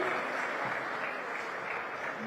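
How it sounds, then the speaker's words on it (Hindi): An audience at a Holi stage event claps to welcome a guest, with dense, steady applause from a sizeable crowd that holds evenly throughout and no speech over it. "जोरदार तालियों से एक बार अभिनंदन करिए मनोज मुंतशिर का।"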